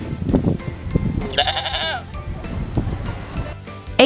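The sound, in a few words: goat bleating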